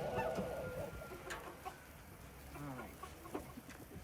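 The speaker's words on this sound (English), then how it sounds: "Hello, little chickens." Chickens at an animal sanctuary cluck in scattered, uneven bursts close by, with soft rustling between calls and a faint voice in the background.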